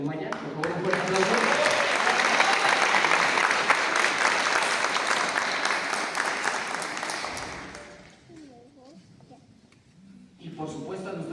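An audience claps at a ceremony, the dense, loud applause rolling for several seconds before fading out, then a voice begins speaking near the end.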